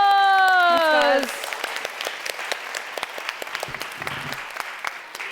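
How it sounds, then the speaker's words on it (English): Audience applauding the tech crew at a summit event, dense clapping from a large crowd that starts as a voice finishes speaking and carries on steadily to the end. "Can we please give them a massive round of applause?"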